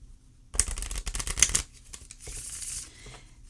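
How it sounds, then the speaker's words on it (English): A short burst of crisp oracle card shuffling, riffling rapidly for about a second, then softer sliding and rustling of cards, close and quiet. "Certainly easy to shuffle."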